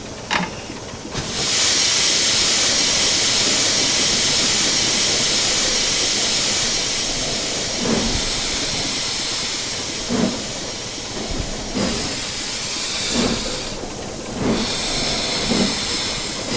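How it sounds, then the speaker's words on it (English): Cylinder drains on steam locomotive 75029 in the Train Simulator Classic game blast out a loud, continuous roar of hissing steam, with soft periodic chuffs thudding underneath at a slow, steady pace. "So as you can see, the cylinder drains are doing their thing. They're blasting out the steam from the cylinders."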